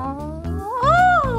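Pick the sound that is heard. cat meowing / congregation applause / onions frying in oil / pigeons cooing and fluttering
cat meowing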